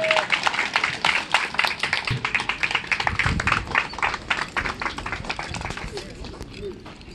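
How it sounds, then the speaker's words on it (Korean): A big round of applause at an outdoor ground golf tournament ceremony, with dense, rhythmic clapping from a crowd that swells, then gradually thins and fades toward the end. "큰 박수 한 번 더 부탁드리겠습니다"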